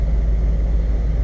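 Lexus SC400 engine running with its exhaust popped off, a loud steady low rumble close by, with no talking.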